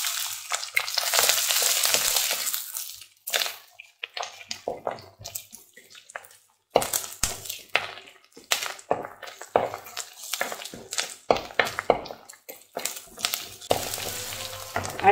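Crushed garlic drops into hot oil with popped mustard seeds and fenugreek for a thoothuvalai kuzhambu, opening with a loud sizzle that gives way to repeated close stirring scrapes and clanks against the pan.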